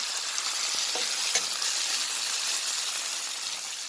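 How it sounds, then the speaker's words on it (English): Brown seasoning sautés in a hot pan with a bright, steady sizzle, broken early by a few clicks and scrapes from stirring. "Then I saute it a little bit, just for a minute"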